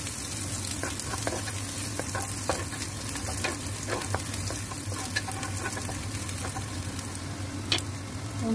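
Shallots and garlic sizzle and crackle steadily in a hot oil-filled pan, with a faint continuous frying hiss and occasional stirring scrapes, no talk.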